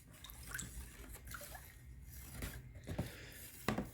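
Rusted small metal piece stirring water to dissolve something for an electrolysis bath to clean rusty bicycle parts, giving soft irregular sloshes and light scraping clinks, with a few sharper knocks near the end.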